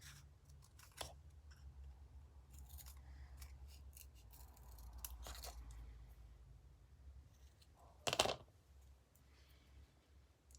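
Scissors snip quietly around a paper craft cutout for a giraffe, with soft intermittent cuts and rustles, then one sharper, louder crunching snip near the end, close and faint with no voices.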